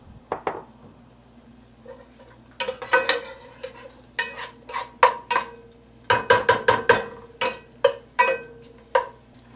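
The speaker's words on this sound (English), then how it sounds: "That's already sizzling away." Andouille sausage frying in heated olive oil in a pan, a faint sizzle beneath repeated sharp clinks and scrapes of a utensil stirring against the cookware, no talking.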